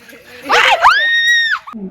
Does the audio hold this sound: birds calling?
no